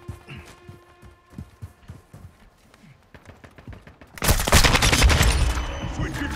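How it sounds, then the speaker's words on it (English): Decoy grenade throwing out fake gunfire in Call of Duty MW2, a run of sparse, light popping shots followed by a sudden loud, sustained burst of rapid firing that carries on to the end. "Tossing a decoy."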